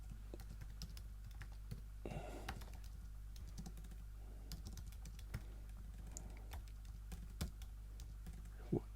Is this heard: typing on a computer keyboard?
yes